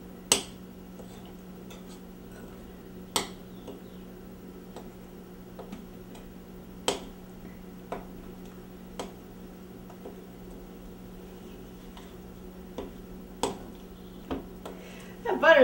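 A hard lump of butter worked with an old-fashioned spoon in a bowl gives sparse, irregular clicks and knocks of spoon against bowl, faint and close, over a low steady hum.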